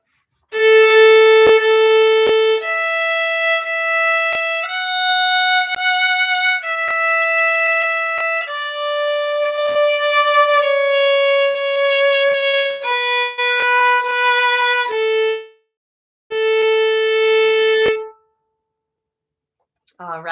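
A violin bowed in a slow, simple melody during a beginner lesson: clear sustained notes that step up and down, with a short pause near the end, loud and alone.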